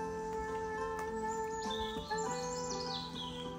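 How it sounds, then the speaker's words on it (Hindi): Small birds chirp and tweet at a seaside caravan park, with short scattered calls that sound moderately distant over a steady background hum and no talking. "खूबसूरत जो है परिंदों की चहचहाहट है."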